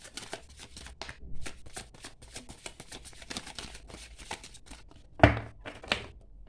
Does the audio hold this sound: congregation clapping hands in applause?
no